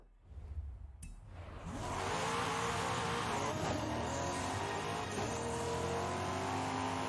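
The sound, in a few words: car engine revving in Forza Horizon 5 video game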